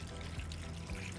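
Water pours steadily into a potted ficus planted as two pots nested together, a soft continuous trickle at low level with no talk.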